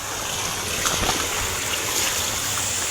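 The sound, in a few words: flowing stream water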